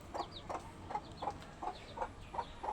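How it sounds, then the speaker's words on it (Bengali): A young chicken in a damp, rain-soaked coop gives eight soft, evenly spaced clucks in a steady rhythm, fairly close and quiet against a faint background hiss. "এই যে মুরগির বাচ্চাটি"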